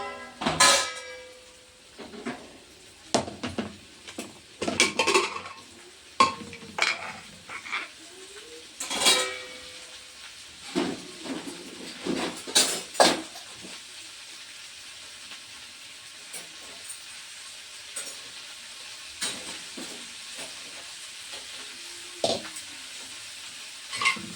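Okra (bhindi) fries in a pan for a Marathi-style bhaji, with sharp bursts of sizzling and stirring clatter early on that thin out to a softer, steady hiss.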